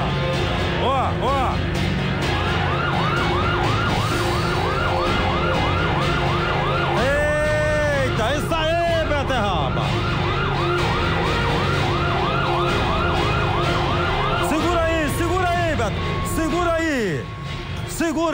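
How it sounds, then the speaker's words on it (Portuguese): A police siren wails repeatedly during an arrest operation in a Brazilian city, its rising and falling tones loud and close over traffic noise, with voices at times. "Cadê a sirene, Beterraba? A sirene, Beterraba"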